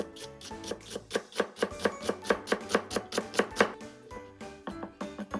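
A knife chops carrot on a cutting board in a fast, even run of crisp, close knocks, pausing briefly before a few more cuts.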